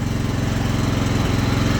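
A Ranch King riding lawn mower engine runs just after a cold start, a loud, steady pulsing chug close by with no voices.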